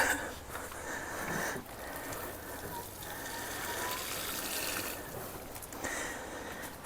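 Liquid fish fertilizer glugs and splashes steadily out of a jug onto plants outdoors on a hot day, a continuous close pour with slight surges and no talking.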